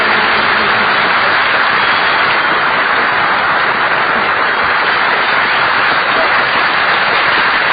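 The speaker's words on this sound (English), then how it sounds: "Eddie, did you hear that clapping?" A studio audience claps for a kid on the Duffy's Tavern radio comedy, a loud, dense and continuous burst of applause with slightly muffled, old-broadcast tone lasting throughout.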